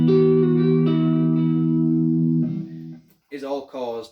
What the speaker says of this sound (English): I use a delay and a reverb just to create these sort of effects that come into the tapping